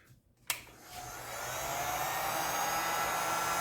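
A heat gun switches on with a sharp click and spins up into a steady, close whooshing blow aimed at an action figure's shoulder joint, holding a constant roar with no talking.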